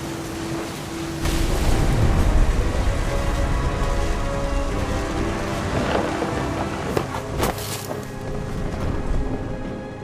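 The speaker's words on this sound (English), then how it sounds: "thunder sounded much too close and full of angry power" Thunder rolls through a stormy sea scene in the video game What Remains of Edith Finch, a deep low rumble building in over a steady wash of rain and wind noise that persists to the end.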